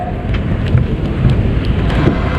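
Steady rain hisses and patters loudly and continuously, with a low rumbling undertone.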